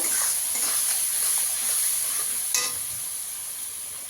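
Spice paste of coriander powder and hot chili powder fries in oil in a pan for a prawn and cabbage curry, giving a steady close sizzle with soft stirring scrapes and one brief clink, with nobody talking.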